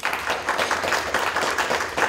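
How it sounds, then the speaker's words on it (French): Conference audience applauding, a steady crackle of many hands clapping together at moderate volume from across a room, continuous throughout with no voices over it. "on peut les applaudir"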